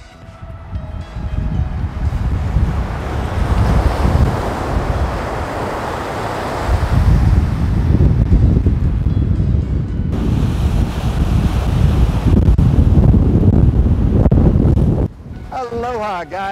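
Surf and wind at Sugar Beach, Maui, with continuous loud wave wash and heavy wind buffeting on the microphone, and a brief voice near the end.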